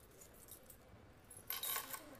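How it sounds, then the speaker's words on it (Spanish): Keys to a painter's studio jangle briefly, a close metallic clinking burst after a quiet moment, fairly soft against a low background hush. "Son las llaves del estudio de un amigo."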